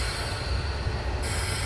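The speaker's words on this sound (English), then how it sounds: "Oh, look, here comes the train." An AI-controlled train in Train Simulator 2015 rolls past with a steady, close rumble of rail wagons and wheel noise, heard alone without talk.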